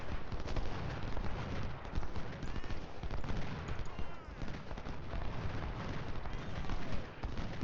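Dense, continuous crackle of massed musket volleys from skirmisher units in Ultimate General: Civil War, steady and loud throughout with overlapping shots and no clear gaps.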